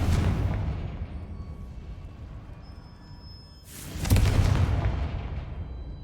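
A Confringo spell explodes in the video game Hogwarts Legacy with a loud, close boom partway through, following the fading rumble of an earlier blast.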